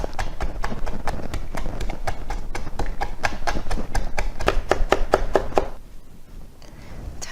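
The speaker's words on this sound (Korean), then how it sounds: "마늘은 한 서너 쪽을요 찍어 주시고요" Three or four garlic cloves being minced with a knife on a board, a fast, steady run of close, sharp chopping knocks that stops abruptly near the end.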